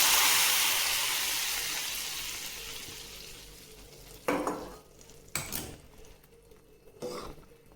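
A loud sizzle bursts out as a hot tempering is poured into boiling sambar and slowly fades, followed by a few sharp clinks of a utensil against a pot.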